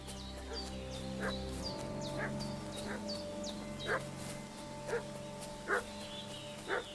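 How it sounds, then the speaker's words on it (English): A dog barks repeatedly in the Kingdom Come: Deliverance 2 countryside, a series of sharp, evenly spaced barks at moderate distance over a low ambient bed. "What's that dog making such a fuss about?"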